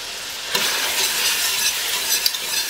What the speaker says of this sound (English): Pull that mix into our meat mixture.